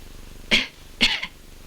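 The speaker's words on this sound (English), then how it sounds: "Again, cough again." Two harsh, forceful coughs about half a second apart, close and clear, with a quiet background.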